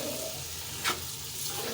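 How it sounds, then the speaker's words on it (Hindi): Soft, steady sizzling of boiled chana dal frying in spice masala in a pan over low heat, a faint continuous crackle with one brief stirring scrape partway through. "अब थोड़ी सी देर के लिए इसे भी हम मसाले में भूनेंगे।"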